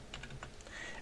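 Quick keystrokes on a computer keyboard, a short burst of several clicky taps close up, alone with no voices, while characters are entered for a serial port test.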